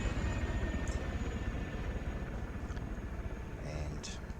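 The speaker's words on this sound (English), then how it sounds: "here's our chopper. And that'll fly over" A helicopter flies over in Arma 3, a steady low rotor rumble with engine drone filling the scene, with faint higher chirps briefly overhead.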